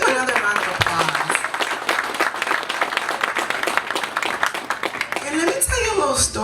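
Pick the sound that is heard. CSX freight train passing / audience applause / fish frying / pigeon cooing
audience applause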